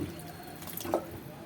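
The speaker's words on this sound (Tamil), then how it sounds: "தண்ணி ஊற்றிடலாம்" Brief splash of water poured into a pan of sautéed tomatoes while cooking ivy gourd thokku, a short liquid gush with a few drips, fairly quiet.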